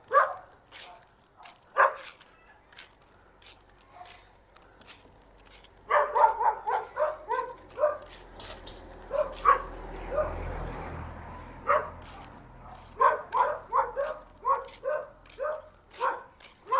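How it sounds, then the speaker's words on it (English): A guard dog at a blue container house barks in bursts, sharp repeated woofs that come in quick runs with pauses between, fairly close, while people talk in the background. "Got him a guard dog, though."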